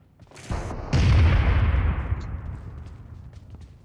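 A tank cannon booms once in PUBG, a loud, heavy blast with a long rumbling decay that fades over a few seconds, with no talk over it.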